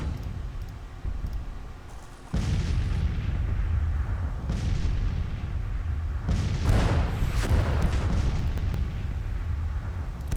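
Artillery fire in Grand Tactician: The Civil War, the Winchester battle: a steady roar of deep rumbling cannon booms, loud and continuous, with several swelling bursts of fire heard alone.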